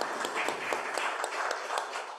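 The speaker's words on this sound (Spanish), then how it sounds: "Vamos a regalarles un aplauso, ¿no?" Audience applause closing a panel at a music and education conference: dense, steady clapping from a crowd in a hall, moderately loud and even throughout with a few sharper individual claps.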